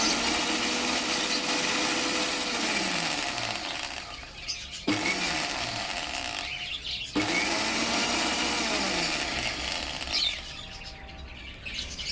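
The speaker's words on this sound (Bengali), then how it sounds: "এখন আমরা এই জেলটা ব্লেন্ডার মেশিনে পানি দিয়ে পানির সাথে ব্লেন্ড করে নিব" An electric blender whirs loudly as it mixes aloe vera gel with water for a budgerigar spray, running in three continuous bursts with the motor winding down briefly between them, close and with no talk.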